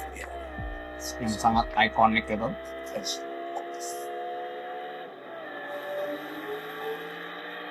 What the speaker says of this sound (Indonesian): ini suara LFA